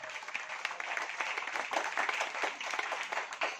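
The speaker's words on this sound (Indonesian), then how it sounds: "Kita berikan aplaus tepuk tangan dulu untuk pemuda Gambor." Dense applause for a village youth group at an Islamic Maulid Nabi religious gathering with music and preaching, steady crowded clapping that holds for several seconds without talk over it.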